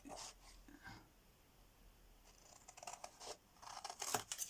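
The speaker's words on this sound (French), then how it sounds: "Je vais prendre mes ciseaux." Paper being cut with scissors while making a vintage surprise box, heard as quiet, soft snipping and scraping strokes in short bursts that grow denser and a little louder toward the end.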